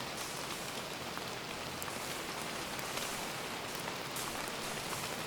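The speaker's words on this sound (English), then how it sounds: "the rain here is like acidic, so you can hear that" Acidic rain falling during the radioactive season in the Super Farming Boy video game, a steady dense hiss of raindrops with scattered tiny ticks, even and continuous with no voices.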